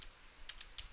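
A few quick, faint keystrokes tap on a computer keyboard as a command is typed at a Linux terminal, close but quiet.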